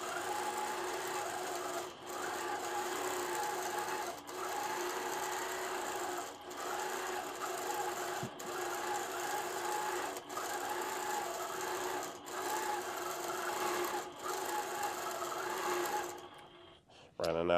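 A sewing machine quilting with glide thread runs in a steady, continuous whir, with brief regular pauses about every two seconds as the fabric is repositioned, then stops near the end.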